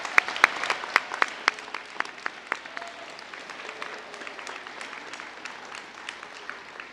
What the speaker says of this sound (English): Let's give all of our speakers a big round of applause one more time.